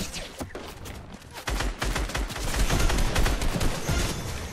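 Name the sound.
gunfire in Fortnite video game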